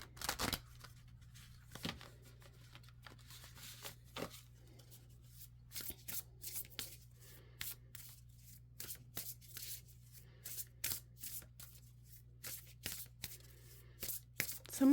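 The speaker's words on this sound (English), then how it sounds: "let's go ahead and pull some oracle cards for you" A deck of oracle cards is shuffled by hand at close range, with repeated soft riffling bursts and card flicks in an irregular rhythm over a low steady hum, no talk.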